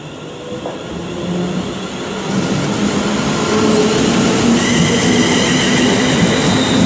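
Class 350 electric multiple unit 350-252 departing Coventry station on the West Coast Main Line, a rising motor whine and rolling wheel rumble that grows steadily louder across the clip, with no talking.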